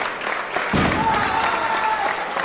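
Wrestling crowd applauding and cheering for a struggling wrestler, a steady wash of clapping that swells partway through and holds for the rest of the moment.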